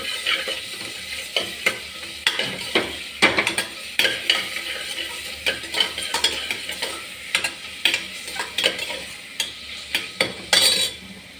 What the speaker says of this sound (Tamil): பெரிய வெங்காயம் நமக்கு நல்லா வதக்கி விடலாம்